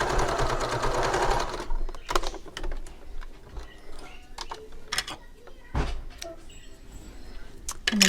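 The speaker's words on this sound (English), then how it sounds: "I like to sew both sides." A sewing machine stitches both sides of a fabric clutch in short bursts, a fast close whirring rattle at first, then brief clicks, fabric handling and intermittent stitching runs.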